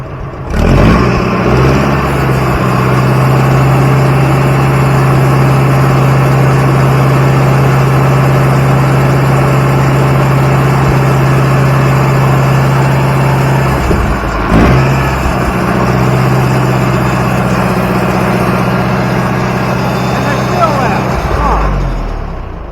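A mid-sized engine runs at a steady idle for over twenty seconds, loud and close, with a brief dip and recovery near the middle and another at the end; a voice speaks over it.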